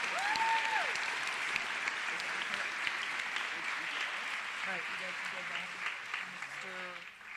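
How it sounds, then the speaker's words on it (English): Sustained audience applause at a high school recognition night honoring award recipients, steady and full throughout, with a faint voice and a few tonal sounds near the end. "One more round of applause for all the recipients tonight."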